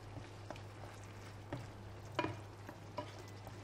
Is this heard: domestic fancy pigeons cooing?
no